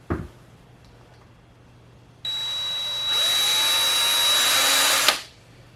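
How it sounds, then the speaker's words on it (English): A power drill boring a hole into a cast zinc piece, starting abruptly with a steady high whine that strengthens as the bit bites, holds for a few seconds, then spins down and stops. "So I'm just going to carefully drill a hole."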